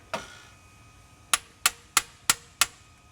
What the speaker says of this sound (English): we're gonna try the hammer extractor bit one more time on this particular one